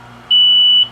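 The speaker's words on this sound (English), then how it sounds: "You can silence the alarm by pushing this button." A Schumacher ATCS dopant heater sounds a single loud, high electronic beep lasting about half a second, clean and close over a faint low hum.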